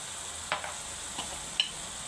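Cumin, coriander and garam masala powders are stirred into mutton curry in a pan: a few soft, separate spoon scrapes over a faint, steady sizzle, quiet and close.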